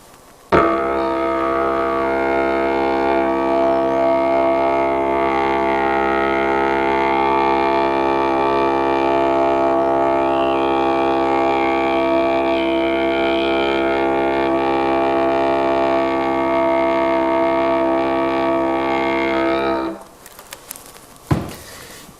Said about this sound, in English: The essence of playing a smooth drone is going to be creating a constant air pressure moving through your lips